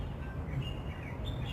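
Small colourful bird chirping nearby in a few short high tweets over a quiet, steady background.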